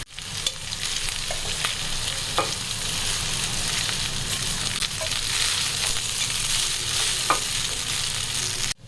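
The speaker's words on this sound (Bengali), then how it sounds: "ভাজা হয়ে গেছে, এবার এর মধ্যে দিয়ে দেব রাইস।" Cooked rice stir-fried in a pan for vegetable fried rice gives a steady, close sizzle with occasional scraping stirs, continuing without pause and free of talk.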